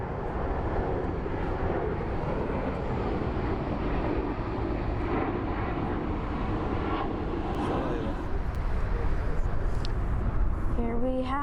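A 12-year-old Discover Airlines Airbus A330-343 jet airliner at Frankfurt Main Airport produces a continuous broad engine roar with rising whine toward the end, close by, with occasional speech over it.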